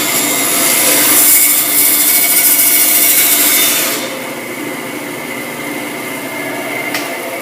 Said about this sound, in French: pour faire une coupe courbe, par exemple, on va redémarrer la pièce